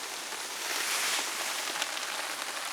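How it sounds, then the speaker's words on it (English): Rain falls at a campsite near a parked car, a soft, steady patter of drops with a faint hiss that swells briefly in the middle. "the rain started coming down"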